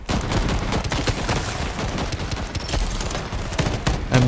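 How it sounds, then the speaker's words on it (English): Homing missiles fire in rapid succession in the co-op shooter Shatterline, producing a dense, unbroken volley of sharp cracks and bursts with no pause from start to finish. "Homing missiles."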